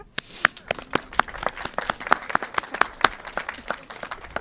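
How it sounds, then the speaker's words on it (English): Clapping from an audience at the outdoor grand opening of an accessible playground at a park; sharp, separate claps from a modest group rather than dense applause, continuing steadily for a few seconds. "I'm going to ask for a round of applause for Kendra."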